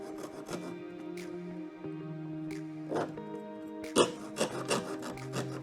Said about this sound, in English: I'm going to hold it real flat on there so that my cut goes straight in.